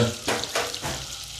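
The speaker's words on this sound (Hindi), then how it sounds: "अगर मेल्ट हो जाए तो इसमें हम मैरिनेट किया हुआ चिकन डालेंगे" Marinated chicken pieces hit melted butter in a hot pan for butter chicken, giving a close, loud sizzle with a couple of sharp frying bursts.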